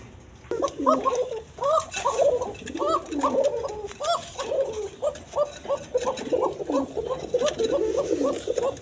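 A male and female pair of pigeons coo again and again in rounded, rhythmic calls, overlapping one another close by, with faint background noise and occasional clicks.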